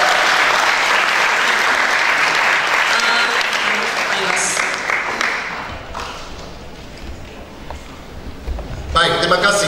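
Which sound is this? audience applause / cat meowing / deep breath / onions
audience applause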